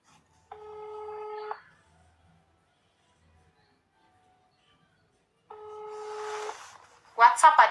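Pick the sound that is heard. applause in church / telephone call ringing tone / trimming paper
telephone call ringing tone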